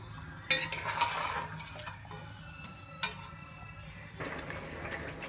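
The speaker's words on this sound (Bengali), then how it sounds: "এবারে মাংসটাকে খুব ভালো করে কষিয়ে নেব যাতে মশলার কাঁচা গন্ধটা একদমই চলে যায়" Meat with spices being stirred and fried in a pan: a spatula scrapes and clinks against the metal over a soft sizzle, in several short irregular strokes, close and moderately quiet.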